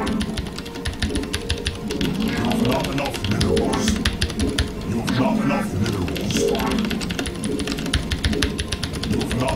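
Rapid, steady clatter of keys on a mechanical keyboard, close and continuous, with a voice talking over it during a StarCraft team game session.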